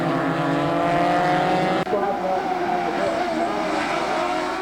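SCCA June Sprints race cars roaring through turn 8 at a Chicago Region event, a loud sustained engine drone with a sharp shift or change partway through, as cars pass near the corner under faint commentary.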